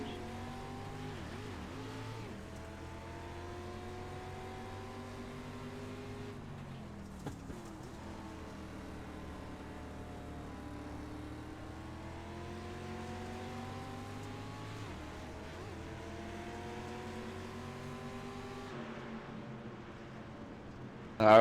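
Race cars lapping a dirt oval at Williams Grove in the iRacing sim, a continuous droning engine note that rises and falls steadily with shifting harmonics, close and even in level with no talk over it.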